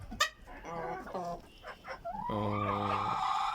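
Ornamental chickens cluck and call in short bursts close by at a home coop, ending in a longer drawn-out crow-like call, with a voice talking among them.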